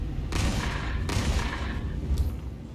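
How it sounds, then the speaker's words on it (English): Heavy autocannon fire from an Aegis Retaliator bomber in a video game booms in three dense, roaring bursts over a continuous rumbling background. "This is like a proper cannon."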